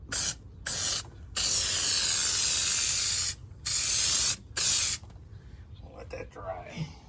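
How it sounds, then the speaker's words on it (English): Spray adhesive hisses in several loud bursts of varying length onto the back of carpet for a 1969 VW Beetle interior, followed by quieter rustling and handling noises. "And we'll just spray the back of this stuff."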